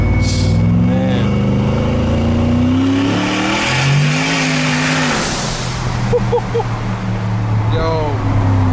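900-horsepower twin-turbo Ford F-150 pickup engine revving on a street, loud rising and falling engine tones that swell and fade over several seconds, with people talking over it.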